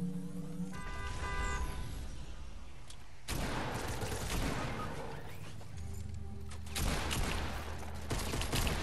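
Rapid video game gunfire crackles in dense bursts, with heavy automatic volleys and booms standing out loud and close against a constant mix of game noise.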